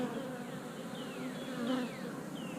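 Honey bees swarm around an open hive, a dense, continuous buzzing drone with individual bees whining past close by, rising and falling in pitch.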